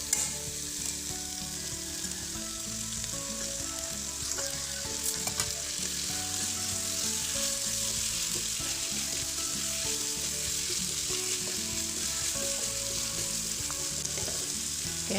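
Tuna pieces fry in a pan of spiced gulai base, a steady close sizzle and crackle with occasional stirring, continuous for about fifteen seconds with no talk.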